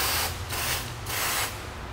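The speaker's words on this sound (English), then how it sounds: "Why not start with a little penetrating oil?" Penetrating oil sprayed from an aerosol can onto a suspension bushing of a 2004 Jeep Wrangler, three short hissing bursts in steady rhythm, close and fairly loud against a low background hum.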